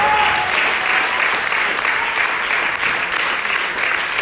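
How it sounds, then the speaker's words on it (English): Church congregation clapping their hands together in praise, a dense, steady wash of applause sustained at even loudness throughout, with a faint voice briefly audible beneath it. "Give him a hand clap. One more time."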